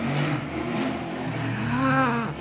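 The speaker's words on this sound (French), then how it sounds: "Cette moto, ça fait 2 fois qu'elle passe" Motorcycle passing by outside a home, a steady engine drone with a rising, revving pitch sweep near the end as it goes by, moderately loud throughout.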